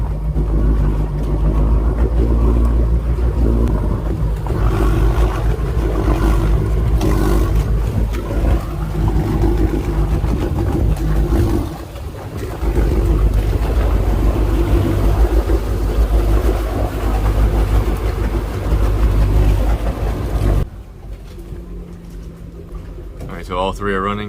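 Three Volvo Penta marine engines on a Tiara 43 boat idle together steadily, a loud continuous low rumble with a brief dip partway through and a sudden drop near the end, while people speak over the running engines.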